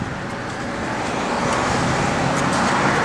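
A 1972 Dodge Charger Rallye engine running at a steady idle right after start-up, a continuous broad rumble with no speech over it, loud and close.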